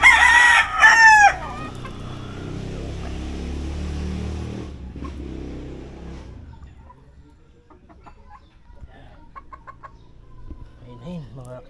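Young Kelso sweater gamefowl stags give a loud, close crow at the start, then quieter clucks and scattered calls follow against a low background rumble.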